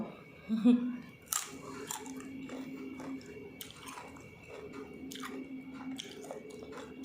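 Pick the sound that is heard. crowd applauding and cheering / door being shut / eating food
eating food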